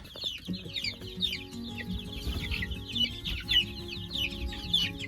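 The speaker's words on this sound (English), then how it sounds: "I'm watching the chickens" Chickens on a North Idaho homestead cluck and chatter steadily at close range, with a low murmur of other farm birds underneath.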